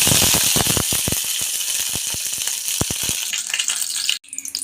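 Mustard seeds splutter in hot coconut oil in a pan for a quick mango curry, with sharp, irregular pops over a bright sizzling hiss that thin out after about three seconds.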